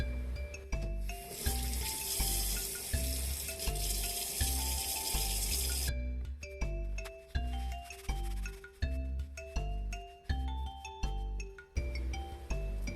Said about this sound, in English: Then rinse with running water.